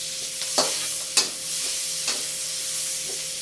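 Onion sautés in butter and garlic for a Filipino fish kaldereta, with a loud continuous sizzle and a few sharp spatula scrapes and knocks against the pan.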